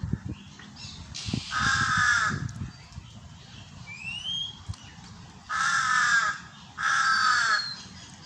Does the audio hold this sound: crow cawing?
yes